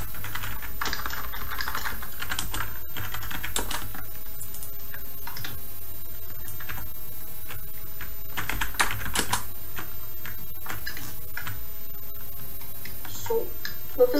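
Steady computer keyboard typing with irregular clustered keystrokes, moderately loud and close, running throughout during a Minecraft EggWars game session, with no speech.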